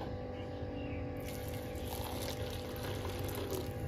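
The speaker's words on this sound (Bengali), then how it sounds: "দুধটা এবার আমি মুসলির মধ্যে ঢেলে দেবো।" Boiled milk being poured onto muesli in a container: a steady liquid pour that grows fuller and brighter partway through, over a constant low background rumble.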